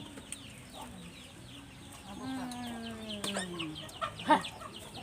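Chickens cluck softly nearby, with a few drawn-out calls and occasional sharper squawks over a quiet outdoor background.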